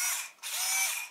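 A small USB-chargeable cordless drill with an odd attachment point, giving a dense continuous ratcheting clatter close up, with a brief dip midway before resuming loudly.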